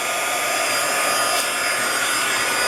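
A heat tool blows steadily to melt embossing powder, a continuous loud whooshing hiss with no pauses from start to finish.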